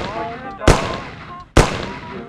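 Two sharp gunshots a little under a second apart in the video game Mafia, each a loud crack with a short decaying tail, over a quieter tonal background.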